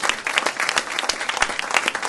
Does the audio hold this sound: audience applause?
yes